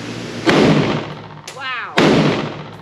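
Two loud, close gunshots from an IWI Galil Ace pistol chambered in 7.62x51 NATO (.308), about a second and a half apart, each a sharp crack with a ringing outdoor tail.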